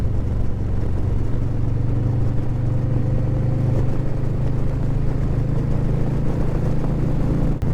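Motorcycles cruise along scenic Route 9 in Delaware in hot weather, a loud, steady engine drone with wind rumble heard from the rider's position, holding constant throughout.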